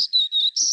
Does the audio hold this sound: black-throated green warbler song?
yes